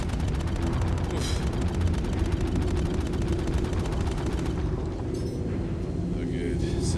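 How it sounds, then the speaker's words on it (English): Cannons fire in a video game, a dense, constant rumble of booming shots and explosions that fills the whole stretch at steady loudness, with short bursts of other noise on top. "Love the sound of cannons"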